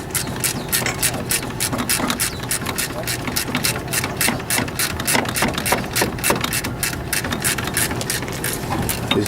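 A ratchet loosens the alternator bolts on a Chevy G20 van with rapid, evenly spaced clicking, close and continuous for several seconds.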